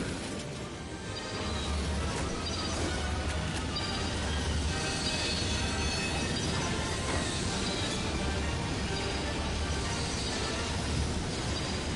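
Steady, loud rumbling train noise in a Ratchet and Clank game on PS4, with rattling carriages and metallic clatter running continuously throughout, no talk.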